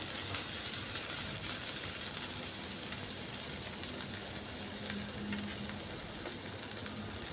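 Chopped onions fry in hot oil, giving a steady, dense sizzle that holds at an even level throughout, close and continuous with no speech over it.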